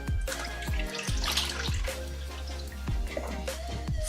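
Water splashes and trickles steadily from a tap as a washcloth is rinsed at a sink during female perineal care. Soft dripping and sloshing continue close up throughout, with a few sharper splashes.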